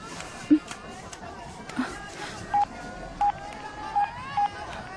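Telephone number being dialed in a tense scene from the Telugu thriller film Psycho, four short evenly spaced keypad tones over a quiet room background, with a couple of soft thumps before.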